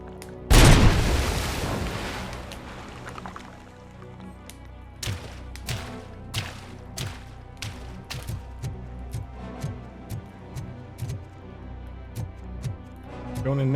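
Short bursts of gunfire in RoboCop: Rogue City ring out in a steady rhythm of about a dozen sharp close reports after one big opening boom, with a rumbling game soundscape underneath.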